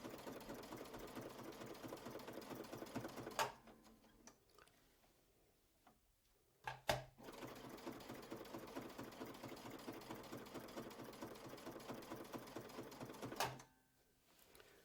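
A sewing machine quilts along a stitch-in-the-ditch line on a skill builder quilt block, running in two long steady stretches of rapid ticking stitches, separated by a quiet pause with a few clicks and thumps.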